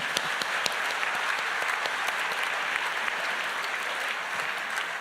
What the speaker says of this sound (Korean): 여러분 모든 후보님들께 박수 한번 보내주십시오